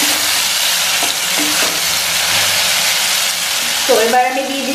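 Broth hits a hot pan of fried potato and eggplant, and a loud continuous sizzle and crackle fills the whole stretch, with a brief higher hiss near the end.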